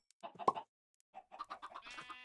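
A blocky video-game chicken clucks in short bursts, a quick cluster of clucks, a pause, then a longer run of rising clucks ending in a brief squawk, fairly quiet and alone.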